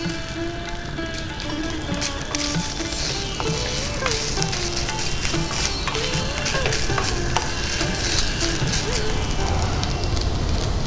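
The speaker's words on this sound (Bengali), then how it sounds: "নারকেলটা একটু ভাজা ভাজা করে নেব যাতে কাঁচা গন্ধটা না থাকে।" Grated coconut fries in a pan, giving a steady close sizzle with scraping stirring sounds and light clinks, continuous throughout while faint tonal background sounds run underneath.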